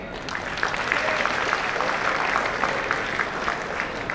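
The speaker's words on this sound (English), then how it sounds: "A big round of applause to all of these" Sustained applause fills a tech conference hall at a developer festival, a thick, lively patter of many hands clapping at close range throughout.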